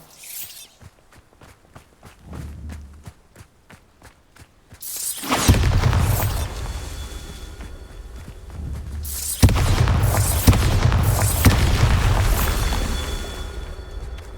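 In Hogwarts Legacy, the Bombardo spell goes off with a sudden loud blast that swells into a long roaring rumble and debris crash, preceded by quieter rhythmic footsteps and a second heavy impact later.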